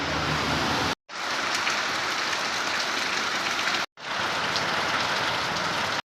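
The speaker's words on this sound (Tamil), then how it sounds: "மழை ஆரம்பிச்சிருச்சு." Steady rain falls in a dense, continuous hiss during a vlog outing, loud and close, with two brief cuts to silence where the recording breaks.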